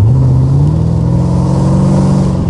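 An LS V8-swapped Mazda RX-8 accelerates on winding back roads, its loud engine droning close up as the pitch climbs steadily through a revving pull.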